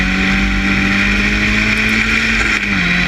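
A historic Formula Ford race car engine drones loud and steady in an onboard view at Cadwell Park, holding a strong buzzing tone that dips slightly in pitch near the end as the car lifts through a bend.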